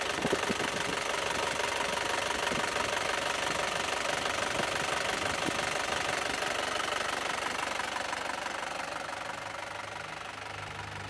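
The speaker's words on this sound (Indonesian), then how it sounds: "untuk karakter mesin di Panther ini sangat renyah sekali teman-teman" Isuzu Panther LS Turbo diesel engine from 2016 idling, a steady, loud, even mechanical clatter with a knocking beat that holds through the whole stretch and eases slightly near the end, no voices.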